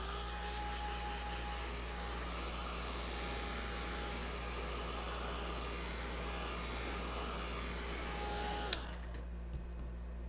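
A hand-held dryer blows over wet paint on a painting, giving a steady, even whirring hum with a faint tone that runs unbroken for most of the time before it cuts off abruptly, followed by a few small clicks.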